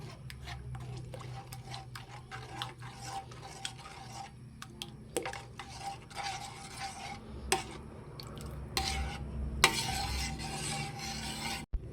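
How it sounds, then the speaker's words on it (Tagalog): A spoon stirs maja blanca mixture with corn in a pot, making quick scraping clicks and soft taps in an irregular close rhythm over a quiet background. "Akin lang pong hahaluin."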